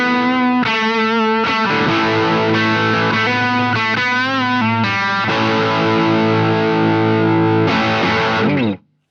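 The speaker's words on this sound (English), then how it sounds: "which is a Gibson Les Paul Gold Top 20" A 2-humbucker Gibson Les Paul Gold Top electric guitar on the bridge pickup plays heavily distorted chords and riffs, ringing sustained and loud throughout before stopping abruptly at the end.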